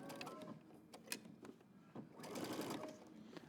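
Sewing machine top stitching a denim jacket, a steady close mechanical whir with rapid needle chatter running the whole time, briefly pausing and then speeding up again.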